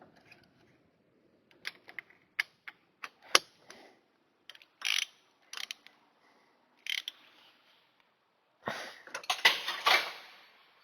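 Ratchet with a long extension tightening the lower starter bolt on a car engine, near the oil filter: bursts of quick clicking strokes in short groups, close and fairly loud, ending in a longer run of rapid ratcheting.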